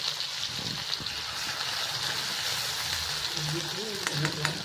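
Asafoetida, curry leaves, chilli and ginger paste frying in hot oil, a soft steady sizzle with occasional stirring clatter and a quiet voice beneath.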